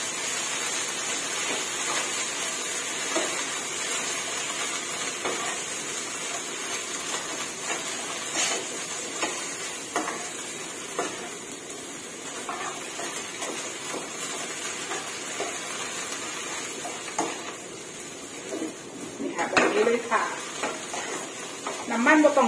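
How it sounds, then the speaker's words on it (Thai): Napa cabbage and egg are stir-fried in a pan, giving a continuous sizzle with scraping and stirring clatter. Someone talks over the cooking throughout. "ผัดไปเรื่อยๆแบบนี้นะคะ"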